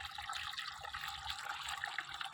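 Water poured out for pet pigeons in their coop, a steady splashing, trickling flow running the whole time at moderate level with no voices.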